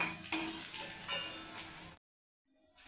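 Bombil (Bombay duck) fish sizzles in a pan of oil with a soft, steady hiss for about two seconds, then the sound cuts to near silence.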